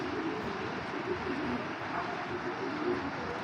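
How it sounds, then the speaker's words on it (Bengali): A big blue-eyed female giribaz pigeon gives soft, low, repeated coos over a steady background hum. "ওদিক যে ভাই এরকম বিগ সাইজের একটা কবুতর।"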